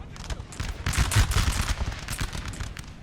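Cannon and musket fire crackles across a Napoleon Total War battlefield, a dense run of booming shots and rattling volleys that carries on steadily for the whole stretch, with no talk over it.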